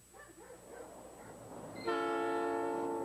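A Southern Pacific train rumbles past, then a loud, steady multi-tone horn blasts close by and holds for over a second, with no talk over it.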